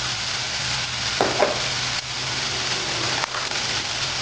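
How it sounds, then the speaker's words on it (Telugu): Spices and turmeric frying lightly in a pan, a steady close sizzle with a few scraping stir strokes and soft clicks over the crackle. "ఇవన్నీ ఎక్కువ వేగన అవసరం లేదండి, లైట్గా వేగితే చాలు."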